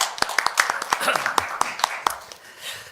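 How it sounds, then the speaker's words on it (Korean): Applause at a Korean panel debate on internet regulation: a scattered burst of hand claps, fairly close and uneven, tapering off toward the end. "뜨거운 박수 부탁드리겠습니다."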